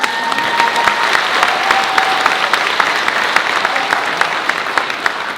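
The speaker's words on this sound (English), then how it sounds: "Let's give him a round of applause." Sustained applause from an audience at a school district's State of the Schools address, steady dense clapping filling the hall with no speech over it.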